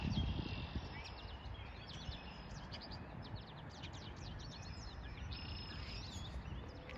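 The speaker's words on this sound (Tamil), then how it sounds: "குருவியில் சத்தம் விளங்குது பாருங்க" Faint, scattered chirps of sparrows over a steady outdoor background hiss near a pond in Canada at winter's end, sounding fairly distant and irregular.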